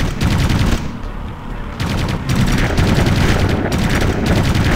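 Rapid bursts of gunfire and explosions from a battle in the real-time strategy game Ground Control 2, loud and dense with repeated rattling volleys and brief pauses.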